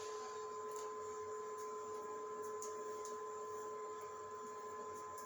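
A modified Black Widow IDEX 3D printer runs quietly with a steady motor hum and faint stepper whine, with soft ticks now and then and no voices.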